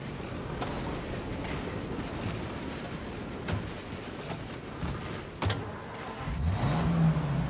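A 1930s-era car driving in Mafia: Definitive Edition gives a steady low engine hum with road noise and a few knocks, then a rising rev near the end.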